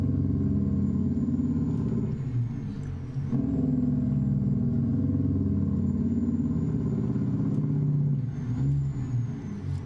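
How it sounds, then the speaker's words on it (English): A Kenworth W900 truck in American Truck Simulator runs its Jake brake, a steady, loud, low engine rumble with a throbbing, rattling drone that holds almost unbroken throughout, dipping only briefly partway through. "I will hit the Jake brake"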